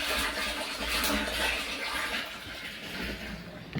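Water gushing fast from a tap after a faulty pump motor was fixed, a steady broadband rush and splash, constant and fairly close throughout.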